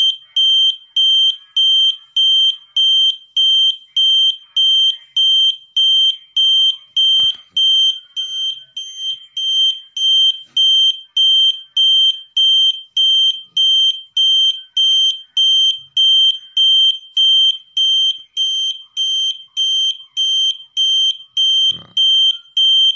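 An Arduino-driven buzzer on a temperature-sensor gate-barrier prototype beeps in a steady, evenly spaced high-pitched rhythm, close and loud, repeating without pause for the whole stretch.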